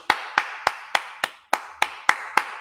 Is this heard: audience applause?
yes